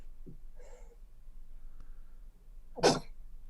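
A single sharp sneeze bursts out near the end, preceded by brief quiet vocal sounds and a faint background hum.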